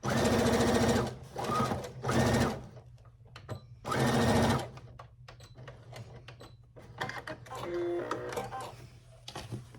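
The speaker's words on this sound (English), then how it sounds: "And again, back stitch, and go to the end and back stitch." A sewing machine back stitches fabric for a small boxy pouch. It runs in three loud bursts with short pauses, then quieter intermittent stitching and handling noises follow near the mic.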